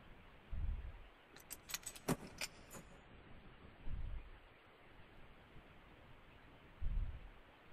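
Brief bright jingle of keys in Silent Hill 2, a short burst of metallic clinks among three low thuds and a steady murky ambient hiss, fairly faint overall.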